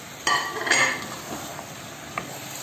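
Green beans and olives frying with chicken and spices, heard as a soft steady sizzle with a few clinks of a utensil against the pan.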